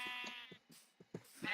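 Rainbow-coloured sheep in Minecraft bleating several times in short separate calls, fairly close and clear, with brief pauses between each bleat.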